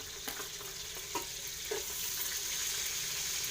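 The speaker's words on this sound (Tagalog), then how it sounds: "Sunod ang sibuyas" Onions frying in a pan for a Visayan dish, a soft continuous sizzle with a few light stirring clinks, fairly faint and close, with no talk.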